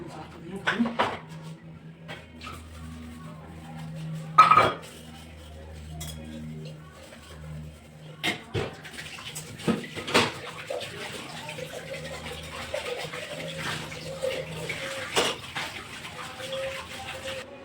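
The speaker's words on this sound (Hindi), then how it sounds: "अब हम लग जाते हैं बर्तनों में।" Pots, dishes and cutlery being washed under running water in a home kitchen, with clinks and clatters of utensils over a steady trickle, close and moderately loud.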